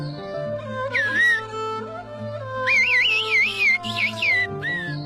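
Whistled language from a remote mountain village in Turkey: a person whistles shrill, warbling phrases that slide and trill, alternating short calls with longer undulating runs, sounding clear and fairly close.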